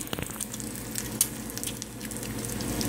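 Eggs sizzle and fry in a breakfast pan, a steady close crackle with a few sharp pops and scrapes, no voices.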